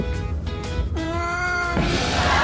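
A three-legged cat meows insistently at close range, a few short cries followed by one longer drawn-out wail with a falling pitch, loud against a noisy indoor background, with no talking.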